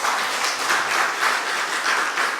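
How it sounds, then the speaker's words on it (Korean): Enthusiastic applause from a church congregation at a Sunday service after a choir hymn, brisk rhythmic clapping swelling and easing in waves, with no talking. "박수 한 번 더 크게 한번 해주시죠"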